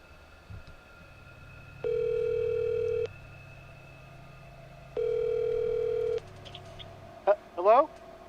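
Telephone dial tone from a call about a passport left on a flight, two steady tones about a second long each, separated by a gap, followed by brief electronic chirps of the line connecting.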